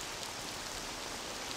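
Steady rain pours down in the Mafia video game, a dense, even hiss of drops on surfaces filling the scene without a break.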